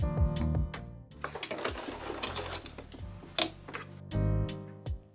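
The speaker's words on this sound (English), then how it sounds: "this should be the last time we use our sewing machine." Rapid mechanical clatter of a sewing machine stitching in quick bursts, close by, with brief pauses and a low motor hum between runs.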